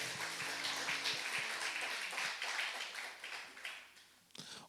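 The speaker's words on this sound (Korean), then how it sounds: "우리 하나님께 영광의 박수 드리기 합니다" A church congregation applauding during a Sunday worship service, a fairly loud burst of clapping that gradually thins and fades toward the end, with a faint sustained musical tone underneath at first.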